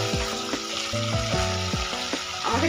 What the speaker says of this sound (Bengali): দেখুন ক্যাপসিকামটা দেওয়ার পর আরো 2-3 মিনিট কষিয়ে নিয়েছি।